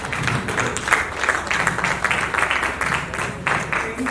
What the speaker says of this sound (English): I want us to give a rounding applause to Barrister